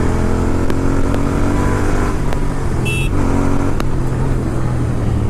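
A Royal Enfield Interceptor 650 motorcycle fitted with a PowerRage full exhaust system roars loudly and steadily close by, its engine note holding a continuous throaty drone throughout.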